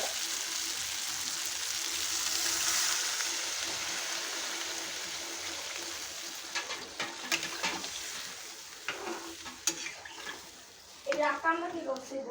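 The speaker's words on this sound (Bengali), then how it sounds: "এখন আমি জল দিয়ে দেবো।" Water is poured into a hot pan of sautéed potato and pointed gourd, giving a steady rushing sizzle that slowly fades to bubbling, while someone talks over it.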